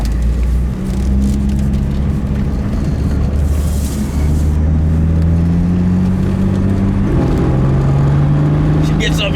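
A 1966 Ford Mustang Convertible engine revs and pulls through rising tones, the pitch climbing then dropping as gears change, close and loud with a rumbling exhaust.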